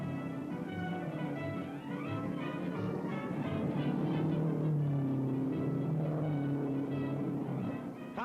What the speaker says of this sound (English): Into the final lap now with throttles wide open